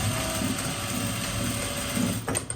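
A sewing machine stitches over zipper teeth while making a pillow, giving a quiet, steady mechanical whir with a faint rhythmic clatter.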